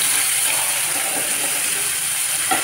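Eggplant frying together with other ingredients in a hot pan in a home kitchen, giving a steady, loud hiss and sizzle that fills the whole stretch with no talk.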